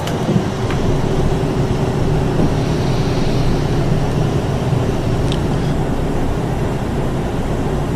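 An Airbus A319 in FSX retracts its landing gear: a loud, continuous low rumble of engine and airflow noise fills the cabin, with faint mechanical clunks and a few short higher tones over the roar.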